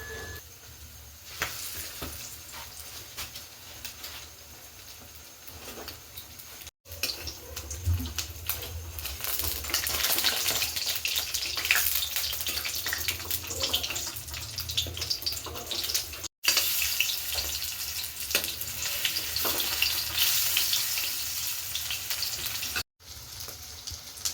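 Egg pieces coated in gram flour batter fry in hot oil, a dense, close crackling sizzle that runs continuously, broken by a few abrupt momentary cuts.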